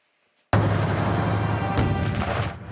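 A sudden loud blast followed by a sustained roar and a second sharp report, explosions and gunfire from a military training exercise near the Belarus border in the Chernihiv region of Ukraine, close and heavy.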